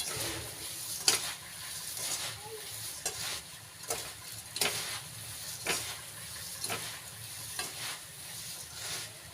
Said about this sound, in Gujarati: હવે હલાઈ નાખવાનું એટલે થઈ જાય પીળા મમરા